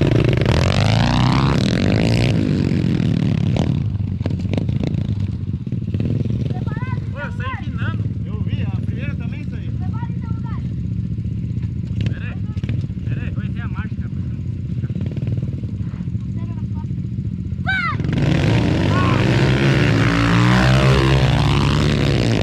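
Small motorbikes racing, high buzzing engines revving close by at the start and end with quieter stretches between, and people talking over the engine noise.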